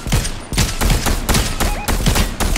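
Rapid bursts of gunfire from the video game Fortnite in ranked Zero Build mode, loud and close, with several quick volleys in a row and a few sharp electronic tones between them.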